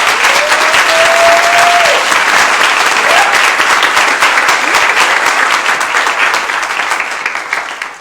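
An audience at a panel discussion on Philadelphia's prison system gives loud, sustained applause for the panelists, a dense continuous clapping with a few whoops at first, tapering off near the end.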